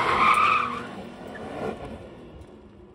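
Tires of a BMW G80 M3 with manual transmission screeching as the rear end slides out, a loud squeal at first that fades over a few seconds with the engine under it.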